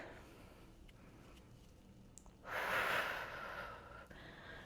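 Heavy breathing during a home core workout for a flat stomach: quiet, steady breaths, then one loud, forceful exhale lasting about a second and a half, fading back to soft breathing.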